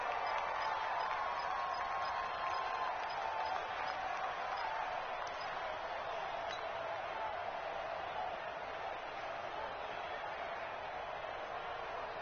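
A football stadium crowd at a Rams versus Falcons game roars as a steady, distant, broadband wash, faint and continuous, with a few thin whistles or tones briefly rising above it early on.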